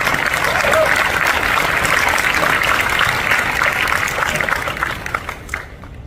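An audience at the San Diego Comic-Con 2023 Invincible anniversary panel bursts into sustained applause, a loud broadband roar of clapping that holds steady and then tapers off near the end.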